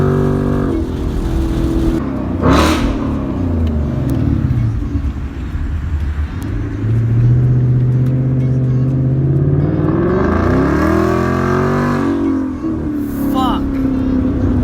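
A 2018 Ford Mustang GT with an MBRP cat-back race exhaust roars and revs hard while accelerating at about 55 mph, loud and continuous, with voices talking over it.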